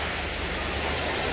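Rain pours steadily outdoors where children are bathing in it, a dense, even hiss filling the whole moment without a break and with no voices.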